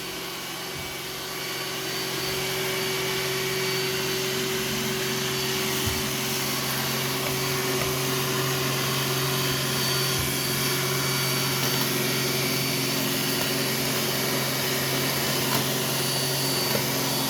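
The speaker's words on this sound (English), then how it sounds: "I think it does a decent job for a robot vacuum." A Roomba s9 robot vacuum hums steadily and close by while cleaning along an edge, a constant whirring drone with occasional faint bumps as it works along.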